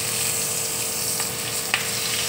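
Cabbage frying in melted butter in a pan, a dense, steady close sizzle with a couple of brief clicks from stirring.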